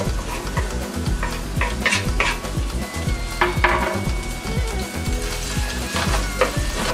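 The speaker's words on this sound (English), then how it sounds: "Into this, add onions." Onions fry in less than a quarter cup of vegetable oil in a pan, a bright steady sizzle with repeated rhythmic stirring scrapes and clinks of the pan, close up and without talk.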